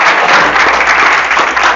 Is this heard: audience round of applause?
yes